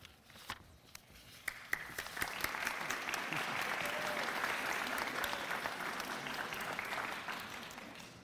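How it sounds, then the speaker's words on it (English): A graduate pinning ceremony audience gives applause, starting with scattered claps and swelling into steady, dense clapping that holds and then eases slightly, heard from a moderate distance. "Let's give our graduates one more really loud, excited round of applause."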